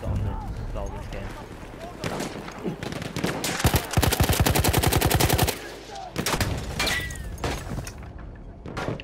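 Gunfire in the Battlefield 1 video game on the Sinai Desert map: scattered single shots and short bursts, then a long rapid machine-gun volley, followed by further sharp crackling bursts at close range.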